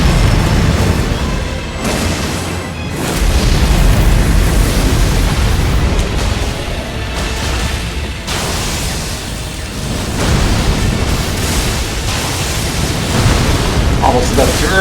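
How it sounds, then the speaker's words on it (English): Sustained roaring fire breath attack in Elden Ring's DLC, a loud broadband rushing blast with deep booming swells lasting throughout, with speech mixed in at points. "Fire breath time."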